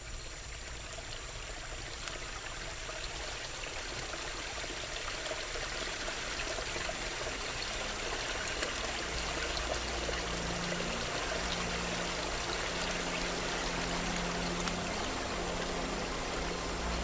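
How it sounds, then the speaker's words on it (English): A flooded Las Piedras River in the Amazon rainforest, swollen past its banks and carrying whole trees, roars with a steady, dense rushing wash that holds constant for the whole stretch, with no voices. "The Las Piedras River is bursting its banks."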